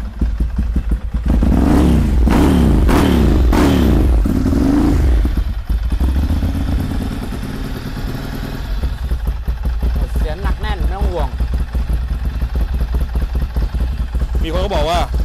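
A Ducati Monster 795 motorcycle with about 22,000 km on it starts up close by and revs hard several times in sharp bursts, then drops to a loud, lumpy idle with a few more blips of the throttle.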